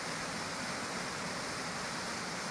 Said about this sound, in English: it's just a large, basin cut into the granite with water swirling into it